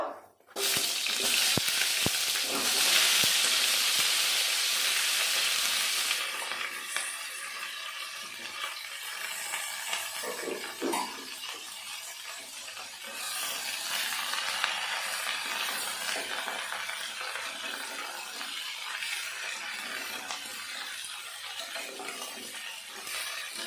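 Chopped mixed vegetables being stir-fried in a pan for a vegetarian five-vegetable dish, a steady close sizzle with scraping stirs, loudest in the first few seconds and then settling into a softer continuous frying hiss.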